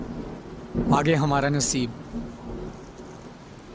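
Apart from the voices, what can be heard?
heavy rain and thunder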